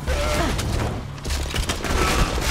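Grenades going off in Borderlands 2 during a co-op firefight: a dense, continuous barrage of booms and gunfire crackle, loud and close throughout.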